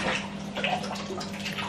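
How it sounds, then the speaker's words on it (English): Tap water runs steadily into a bathroom basin or tub, a continuous broadband splashing rush with light gurgles throughout, fairly close and alone without talk. "Let me turn this water on so you can hear me."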